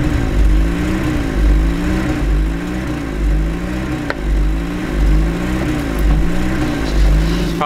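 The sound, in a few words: pickup truck engine revving up and down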